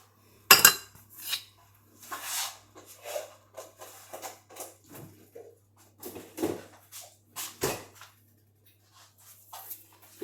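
A utensil clinks and scrapes irregularly against a bowl while genoise cake batter is mixed, giving close, sharp taps and rubbing strokes with brief pauses and no talking.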